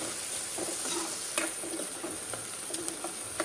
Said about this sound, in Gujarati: હવે લસણ નાખી દઉં તેમાં ડુંગળી અને ટામેટું નાખી દીધું છે